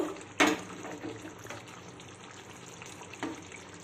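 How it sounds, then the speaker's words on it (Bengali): Pomfret fish curry bubbles in oil while it is stirred, with a continuous moderate sizzle and two sharp utensil knocks against the pan, near and without speech. "তেল ভেসে উঠেছে মাছটাকে একটু নাড়িয়ে দেব"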